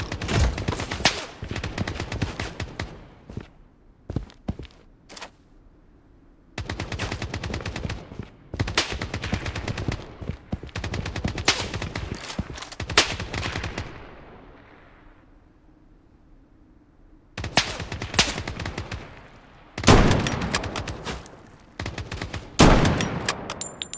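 Gunfire in the mobile battle royale shooter Project BloodStrike comes in loud automatic bursts separated by quiet gaps, with rapid rattling volleys and sharp single shots close by.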